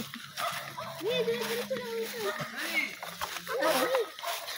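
A dog makes whining, yelping calls close by, mixed with people talking over it.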